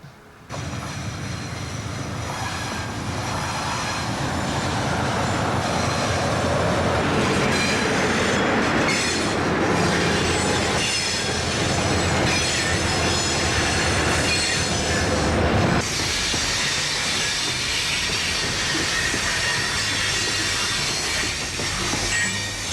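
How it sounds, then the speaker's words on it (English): A coal train passes eastward at Midway, Pennsylvania, its loud steady rumble and rolling wheel noise building quickly, with squealing wheels and rhythmic clicks over rail joints before a sudden drop as the cars pass. "This coal train has come off the branch at Burgerstown and passes eastward at Midway, Pennsylvania on its way to Conway Yard."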